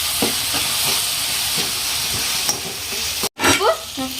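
Capsicum and mint fry in a pan for capsicum rice, giving a loud, steady sizzle and hiss with occasional stirring scrapes and a brief sharp break near the end.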